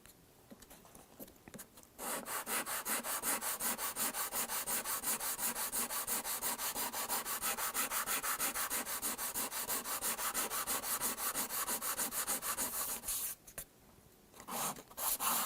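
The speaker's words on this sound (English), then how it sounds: "Sanding the back of the guitar went very smoothly." Steady, continuous sanding on the back of an acoustic guitar with a polyester finish, a dense rhythmic abrasive rubbing that runs loud and close for most of the stretch, starting after a quiet opening and breaking briefly near the end.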